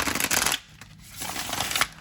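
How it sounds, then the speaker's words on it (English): A tarot deck is riffled and shuffled by hand close up, giving quick papery card flutters in two bursts with a short pause between them. "let's go ahead and shuffle these bad boys up"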